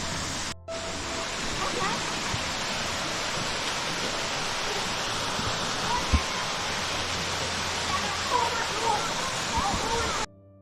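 Kondalilla Falls in the Queensland rainforest of the Sunshine Coast hinterland, an 80 m waterfall, roars as a steady, dense wash of falling water heard from the top, constant and loud throughout.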